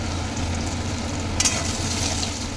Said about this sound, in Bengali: আদা রসুন কুচিটা বেশি না ভাজলেও হবে হালকা জাস্ট ভাজতে হবে